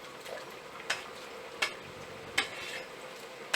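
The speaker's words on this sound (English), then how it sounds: "Now I am dropping these kalkals into it. And fry them till light brown." Kulkuls, small curled Christmas sweets of dough, frying in hot oil: a steady close-up sizzle with a few sharp pops and crackles spaced through it, no voices.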